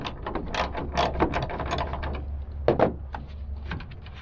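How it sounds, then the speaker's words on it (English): A hand ratchet loosening the tail light bolts on a Nissan Frontier pickup, rapid close clicking bursts repeating in short runs with brief pauses, loud and alone. "I prefer to use a ratchet so it doesn't strip it around."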